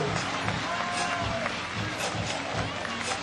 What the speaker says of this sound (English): A round of applause for the ladies.